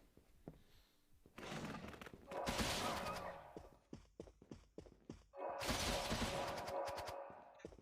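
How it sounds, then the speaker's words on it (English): Rapid-fire shots in the game Bloodstained, a run of sharp thudding hits in quick succession between two loud crashing bursts, close and punchy. "I can rapid fire. I just have to hit the button multiple times in a row."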